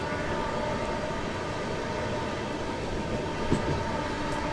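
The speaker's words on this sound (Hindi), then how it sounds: "गढ़ी हरसरू जंक्शन फिलहाल हमारी ट्रेन स्किप कर रही है" A Swarna Jayanti Rajdhani train runs through Garhi Harsaru junction on a foggy morning, a steady loud rolling rumble with a continuous wheel-on-rail roar and a faint thump near the end.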